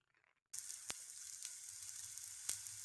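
Pea and rajma adai cooking in oil on a pan: after a brief near-silence, a steady bright sizzle starts abruptly and continues, with a couple of sharp pops.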